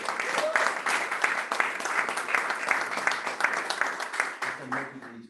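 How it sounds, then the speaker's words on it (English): An indoor audience at an end-of-year meeting and board officer installation gives a sustained, dense round of applause that fades out at the end, with brief voices underneath. "a round of applause to all of y'all for the help."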